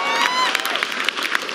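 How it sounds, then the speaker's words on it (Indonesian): A live audience applauds and cheers for Rocky Gerung and Abalin. A loud, dense burst of clapping rises with shouts and whistles, close and continuous for a moment. "Tepuk tangan dong buat Bang Rocky Gerung sama Bang Abalin."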